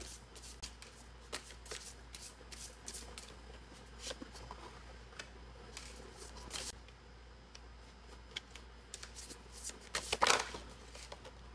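Playing cards being counted and dealt into groups on a table, a quiet series of soft flicks, slaps and shuffling rustles at irregular intervals, with one sharper burst of card noise near the end.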